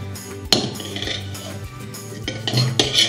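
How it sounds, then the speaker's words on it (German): A spoon stirs a budgie treat mixture in a bowl, scraping and clinking against the sides, with a sharp knock near the start and more clinks toward the end. "Alles umrühren mit dem Löffel, den ihr vorhin für die Karotten genommen habt."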